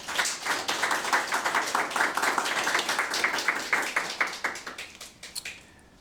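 A church congregation claps together in a quick, steady rhythm for several seconds, the applause loud and full before thinning out and fading at the end.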